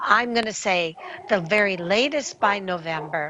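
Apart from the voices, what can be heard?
dogs barking in the background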